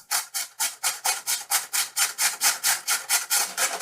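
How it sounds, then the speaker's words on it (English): Cabbage being grated very finely on a hand grater, a steady run of about fifteen rhythmic rasping strokes, close and fairly loud, with no talking. "I prefer to use this grater here to make it really fine"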